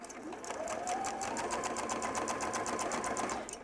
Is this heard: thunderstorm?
no